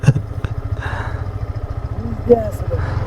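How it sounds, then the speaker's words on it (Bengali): A 100cc motorcycle being push-started, its engine catching into a fast, rhythmic low putter that carries on under a voice, with a brief clatter near the start. "বাইক ঠেলা দিয়ে স্টার্ট চলে"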